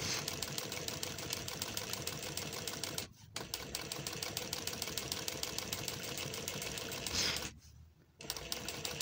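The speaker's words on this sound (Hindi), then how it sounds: "ये मैं सिलाई लगा रहा हूँ आपके सामने ही है यार।" A sewing machine runs steadily, stitching a gathered seam, its needle clattering in a fast even rhythm with two brief pauses as it stops and restarts.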